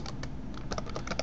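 Keystrokes on a computer keyboard while entering a content type name in Drupal 7, a quick irregular run of light clicks, close and clear with no voices.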